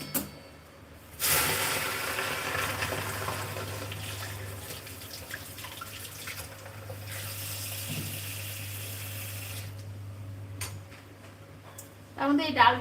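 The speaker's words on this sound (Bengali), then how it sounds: "তার মধ্যে এই ডালটাকে একটু ভাজবো" Dal frying in a steel kadai gives off bursts of loud hissing sizzle, one early and one in the middle, over a steady low hum, with quieter stretches between.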